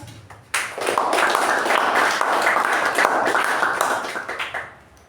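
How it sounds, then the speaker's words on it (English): A short burst of applause at a Toastmasters club meeting for the winners, starting abruptly and filling the room with dense clapping before tapering off after a few seconds. "A huge round of applause to all the winners."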